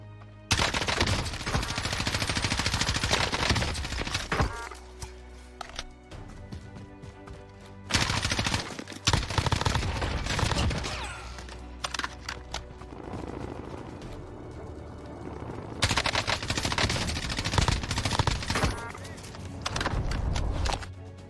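M4A1 assault rifle fire in the Warzone video game, with several long bursts of rapid automatic shots separated by brief pauses and a steady game soundscape underneath.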